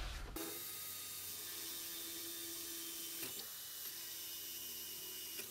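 A Forstner bit bores a deep hole in wood while building an outfeed table, a steady high whine with a brief break partway through, close and alone.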